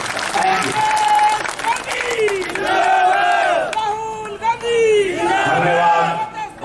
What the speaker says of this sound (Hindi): जोरदार ताली बजाकर के बच्चों को स्वागत करता हूं।